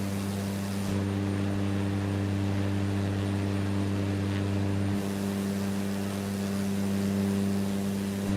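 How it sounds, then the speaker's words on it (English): Cessna Caravan single-engine turboprop in Microsoft Flight Simulator 2024, cruising over Jamaica: a steady, loud engine drone with strong tonal hum and broadband rush, continuous throughout with a slight shift in tone partway. "Sorry, it's a Cessna Caravan."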